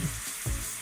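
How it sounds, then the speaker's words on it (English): Steak edges searing in a hot pan give a short, steady frying sizzle with two brief surges of crackle, close and fairly quiet, with nobody talking. "now we're going to sear the edges"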